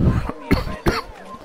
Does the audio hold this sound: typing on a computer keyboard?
no